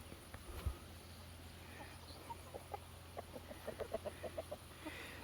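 Rooster in a backyard chicken pen giving a run of soft, quick clucks that rise into a rapid burst of chatter near the end, faint against steady background hum, with one thump early on.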